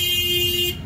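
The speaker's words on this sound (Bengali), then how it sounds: "হর্ন মারার কি আছে?" A vehicle horn sounds as one loud, steady honk of just under a second near a railway station platform, then cuts off abruptly.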